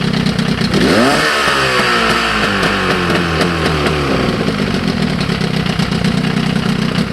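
1998 Force 50 HP outboard motor after a carburetor rebuild, a brief crank and then the engine catching and revving loudly up and down before settling into a close, rough idle.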